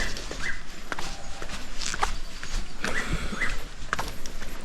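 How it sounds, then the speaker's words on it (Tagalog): Footsteps tread along a steep canyoneering trail with a handrail, near a river. The steps are irregular and close, over a constant outdoor rush. "Naglalakad pa rin tayo sa trail."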